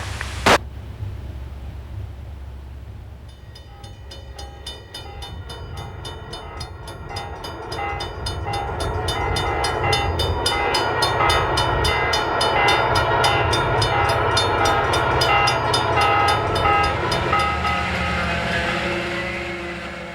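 An Alaska Railroad freight train hauling trailers toward Fairbanks rolls past, starting with a sharp knock, then a low rumble that builds into loud, sustained rattling and clanking of cars close by.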